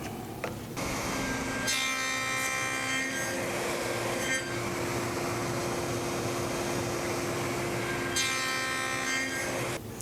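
A table saw cuts wood for box joints with a loud, continuous whine and rasp that runs through the whole span. Pitch shifts and tonal streaks rise as the blade bites the workpiece.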